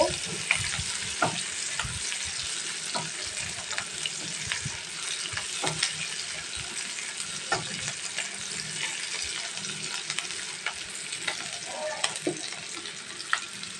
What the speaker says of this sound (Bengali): আমি পেঁয়াজটাকে হালকা একটু বাদামি করে নেব